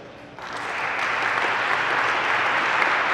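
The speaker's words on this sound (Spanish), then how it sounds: "Los aplausos" Applause at an evening event for a club's official jersey launch swells quickly from a quiet start into full, sustained clapping from a large audience.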